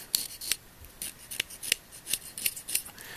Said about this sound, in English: Now scrape the tip a little bit.